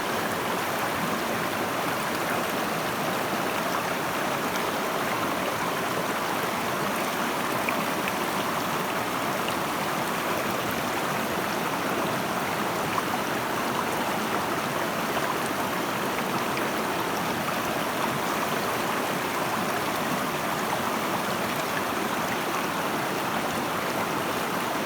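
Water rushes steadily through a gold prospecting sluice outdoors in Scotland, a constant broadband wash that keeps an even level for the whole stretch with no voices.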